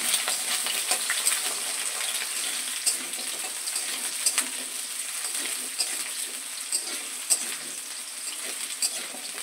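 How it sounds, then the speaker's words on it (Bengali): Cut potatoes fry in a pan of spice mix, a steady close sizzle and crackle that runs throughout with small pops, and no talking. "সেই আলুটা এবার ভেজে নেব এই মশলায়"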